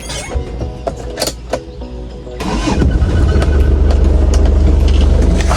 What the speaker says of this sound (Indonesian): Kita akan coba starter mesinnya dulu ya teman-teman.